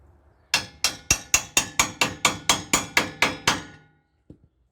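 A hammer taps on an air suspension part of a 1998 Dodge Dakota pickup, about a dozen sharp metallic knocks in quick even rhythm, close and clear, then two faint light taps after a pause.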